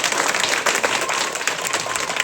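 A church congregation applauding after a prayer, a steady burst of many hands clapping together at fairly close range, dense and sustained across the whole moment.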